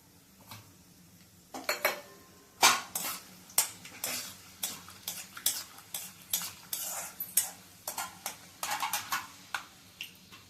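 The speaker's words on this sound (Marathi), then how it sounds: "म्हणून आधी शेंगदाणे तळून घेऊया." Peanuts frying in oil in a pan while a utensil stirs them, giving repeated metallic scrapes and clinks against the pan in an irregular rhythm over a low background sizzle, close and fairly loud, with no talking.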